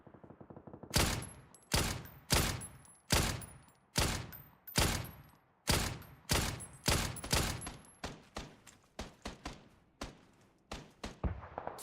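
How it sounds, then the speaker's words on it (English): Long-range LMG machine gun fire in PUBG, arriving as repeated sharp bursts of shots with echoing tails, steady and rhythmic throughout, heard alone without talk. "Oh, that's an LMG from far away."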